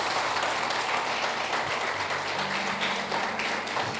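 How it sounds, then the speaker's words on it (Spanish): A church congregation claps at a Sunday service, a diffuse, moderately loud wash of applause with a low hum running underneath throughout. "Dale un aplauso a Cristo."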